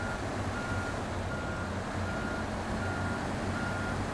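A truck in a snow driving video game beeps steadily with a repeating reversing-style tone over a constant engine drone, evenly spaced and moderately loud with no talking.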